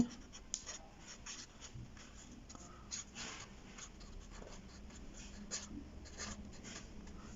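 Pen or chalk writing out a straight-line equation for a business math lesson, faint continuous scratching strokes with small taps, quiet and close with a soft background hiss and no voice.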